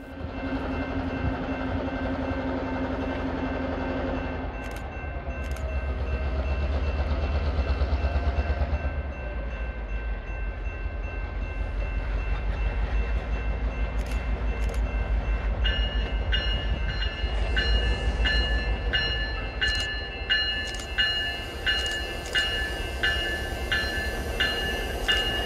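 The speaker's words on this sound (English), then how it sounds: "NECR SD9 number 1750 has powered this job for years" An NECR yard job train led by an SD9 locomotive, number 1750, rolls past at North Elm Street: a steady, heavy diesel rumble and wheel noise, with short horn-like tones early and bell-like rhythmic ringing in the later half.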